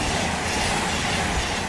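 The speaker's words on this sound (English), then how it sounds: "Modern trains are extremely fast and so quiet they give you no time to react." A modern train rushes along the tracks at speed, a steady, loud, full rumble with faint wheel clatter filling the whole stretch without any voices.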